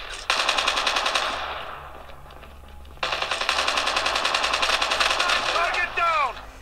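Rapid automatic gunfire from Call of Duty Mobile rattles out in two long, loud bursts separated by a short lull, followed by a few ringing metallic pings near the end.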